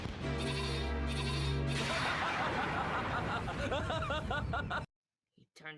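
A goat bleats in a dubbed cartoon, giving repeated nasal, wavering cries over busy background sound that break into quick chuckling calls before a short silence.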